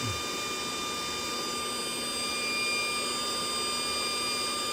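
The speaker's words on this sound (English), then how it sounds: "Just gotta be patient with these things, these electromagnetic guns, because they take forever." An electromagnetic induction heater warms a bolt during thermostat replacement on a 2011 Mercedes C300, giving a steady, unbroken electrical hum with thin high whining tones throughout.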